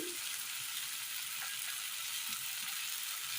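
Coriander, turmeric and chilli powder frying in a pan for a Kerala rice curry, a continuous close sizzle with faint stirring scrapes, steady and even throughout with no talking.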